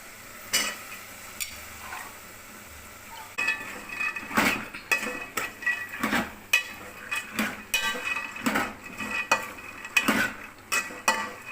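Fresh field beans scooped into a frying pan and stirred with tomato and onion, giving a series of scraping, clinking spoon strokes over a soft background sizzle, close and fairly loud, with no talking.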